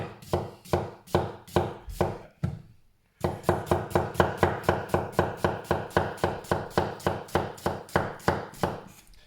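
A knife chops an onion on a cutting board in quick, regular sharp knocks, a short run of strokes, a brief pause, then a longer steady series at a brisk rhythm.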